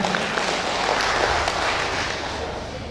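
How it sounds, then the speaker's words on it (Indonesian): An audience at an evening gathering of former BKKBN staff in Dumai claps steadily for a few seconds, a dense, even patter of many hands heard fairly close. "Tepuk tangan."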